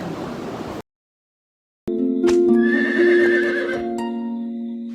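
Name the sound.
horse neighing and hooves clip-clopping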